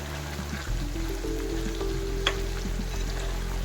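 Chicken pakoda pieces of small cut chicken coated in salt and chilli, frying in hot oil with a steady close sizzle and bubbling that continues throughout, with no talking.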